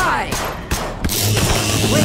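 Rapid gunfire from units in the They Are Billions strategy game, several sharp shot bursts in an irregular clatter, near and loud, with game voice lines and effects mixed in.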